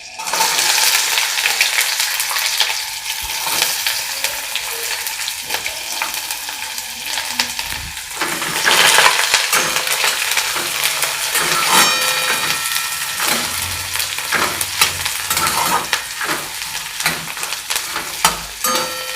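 Onion frying in a pan with roasted peanuts: a steady, loud broadband sizzle with scattered scraping and stirring clicks, no talk.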